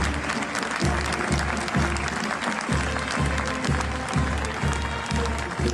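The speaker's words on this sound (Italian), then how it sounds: "Un applauso e silenzio, tanto silenzio per una tragedia che ha scosso tutti." Crowd applause outside a church as a coffin is carried out at a funeral after a tragedy in Sicily, loud sustained clapping from many hands, close and continuous, with a rhythmic low pulse running beneath it.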